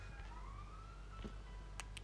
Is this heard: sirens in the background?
yes